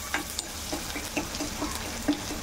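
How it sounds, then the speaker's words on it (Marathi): Steady sizzling of onions frying in a pan, with soft stirring scrapes and occasional small pops, close up and moderately quiet. "हा कांदा छान असा लालसर थोडासा परतून घ्यायचा आहे"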